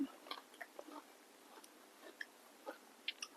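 Someone eats zucchini, soft wet chewing and crisp bites clicking faintly at an irregular pace, close and quiet with no talk.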